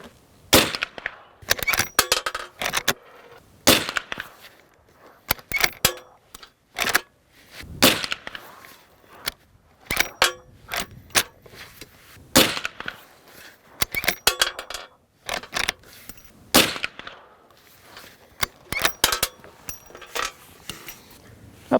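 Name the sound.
Marlin 1894 lever-action rifle firing .44 Magnum rounds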